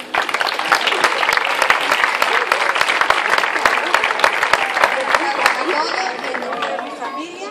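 Loud, sustained applause from a crowd at a flag-raising ceremony opening the Barrial de Gáldar town festival in 2019, dense clapping with background chatter that continues steadily and eases slightly near the end.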